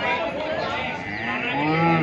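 Jersey cows at a cattle market giving a long, loud, continuous moo, close by and filling the whole stretch, with no talk over it.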